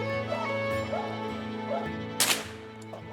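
Young hunting dogs bark out in the woods on a Kentucky squirrel hunt, a few sharp yips rising over a steady low hum, with one louder burst near the end.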